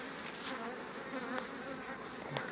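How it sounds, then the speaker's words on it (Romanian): Honeybees hum densely around a hive frame being inspected, a steady close buzzing swarm with individual bees flicking past now and then. "E albina și aici."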